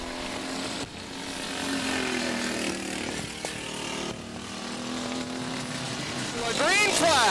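Race cars roaring around 81 Raceway at the green flag, a continuous engine drone under a commentator's voice, swelling into a louder car passing with a sweeping pitch at the end.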